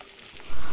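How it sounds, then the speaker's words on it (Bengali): Turmeric-coated chicken pieces half-frying in hot oil, a close, continuous hiss and sizzle that briefly grows louder near the end. "তো প্রথমেই মুরগিগুলোকে আমি আধা ভাজা করে নিচ্ছি"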